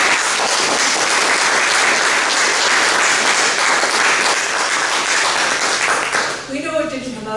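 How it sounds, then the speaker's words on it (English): At a Margaret Maher Award ceremony in Amherst, Massachusetts, a roomful of people gives a loud, continuous round of applause that holds evenly for over six seconds, then fades as a voice begins speaking. "can we have a round of applause for this?"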